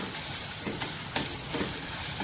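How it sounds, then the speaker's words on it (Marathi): Ginger garlic paste fries in oil in a cooker for matar pulao, a steady close sizzle punctuated by a few soft stirring scrapes, with no speech. "आलं लसूण पेस्ट आपण टाकूया म्हणजे थोडी ती परतून घेऊया तेलावर"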